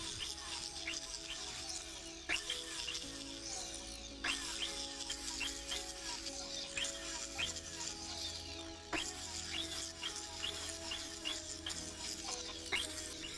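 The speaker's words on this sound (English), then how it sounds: "using a bristle cup and a felt wheel with Triple-E to start polishing the item" A silver bracelet is polished with a bristle cup and a felt wheel carrying Triple-E compound, making a fast rattling, scratchy grind with rapid clicks and ticks from the links over a low motor hum, close and quiet throughout.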